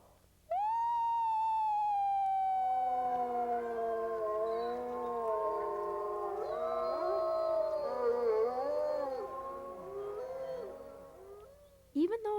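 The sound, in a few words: people imitating a wolf howl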